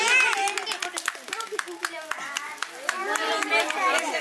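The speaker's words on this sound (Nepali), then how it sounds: "ताली ताली ताली क्ल्याप" Hands clap at a wedding in a quick, sharp run of claps, mixed with singing and chattering voices close by.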